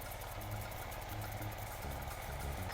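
A Mar-Pol Su-50 motor pump driven by an 8-horsepower Zubr walk-behind tractor engine runs steadily outdoors in a garden, a continuous mid-pitched engine drone with a slightly knocking, vibrating rhythm, heard fairly close with no talking.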